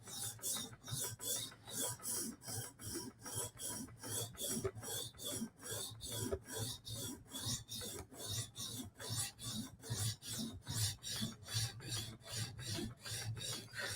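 Steady rasping strokes of a Chris Reeve Sebenza knife blade being sharpened on a TSProf Kadet guided sharpener, repeating back and forth in an even rhythm close by, with no voices.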